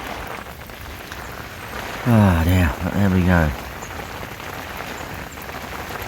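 Steady rain falls on a surface throughout a night-time carp fishing trip, a constant even patter, with someone speaking briefly over it in the middle.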